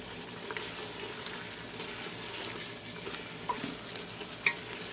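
Spices frying with softened tomatoes and camel meat for jareesh, a faint, steady sizzle with light stirring and a few small ticks and pops toward the end, heard alone at low level.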